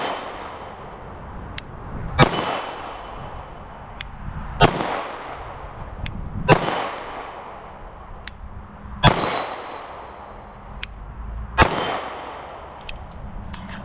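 A Sig Sauer P365XL Spectre Comp pistol in coyote tan fires at an outdoor range, five sharp loud shots spaced a couple of seconds apart, with fainter distant gunfire cracking between them.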